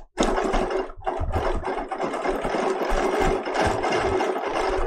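A Bernina Q20 sewing machine stitches steadily at speed for nearly five seconds, a dense continuous mechanical whir with a brief pause near the start and no voices.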